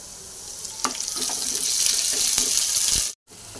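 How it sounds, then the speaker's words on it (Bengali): Ginger garlic paste hitting browned fried onions in a hot pan produces a steady, close sizzling hiss with a few soft clicks, then cuts off abruptly near the end. "এর মধ্যে এবার আমি একটু আদা রসুনের পেস্ট দিয়ে দেবো"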